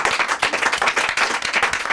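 Energetic audience clapping at a live mentalist stage show, a dense, close burst of rapid hand claps pulsing throughout the short stretch.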